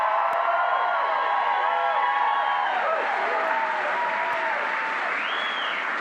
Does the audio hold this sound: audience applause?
yes